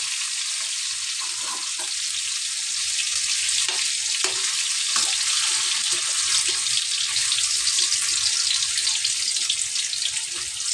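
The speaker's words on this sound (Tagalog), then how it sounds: "Iprito na natin to ating tokwa guys. Ayan. Tumatalsik-talsik guys." Tofu frying in hot oil in a pan, a steady close sizzle with sharp popping splatters crackling throughout, no talking.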